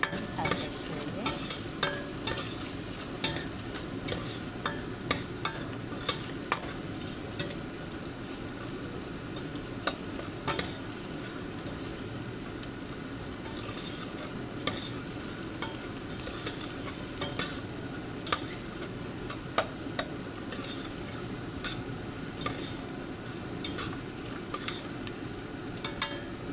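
Onions fry and are stirred in a pot for white bean stew, a steady close sizzle with frequent scraping taps of a spoon against the pot throughout, no talking.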